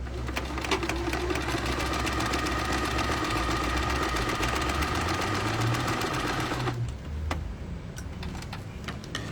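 A sewing machine stitches a zipper pouch in a fast, steady mechanical rattle of needle strokes, close and loud, then stops and leaves a few faint clicks and handling sounds.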